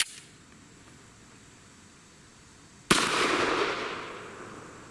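One sharp, loud gunshot from a 10mm Auto pistol with a 5-inch barrel cracks after a quiet stretch, followed by a long bright echoing decay, alone with no speech.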